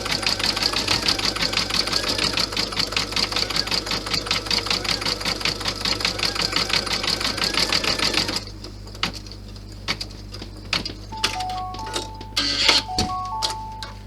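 An embroidery machine stitches an Easter bunny sucker design with a rapid, steady needle rhythm for about eight seconds, then stops, leaving quieter clicks and a few short electronic beeps.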